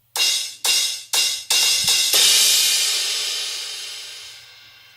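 Two crash cymbals panned left and right, struck in four quick choppy bursts and then a long sustained wash that decays gradually over several seconds, bright and alone with no voices.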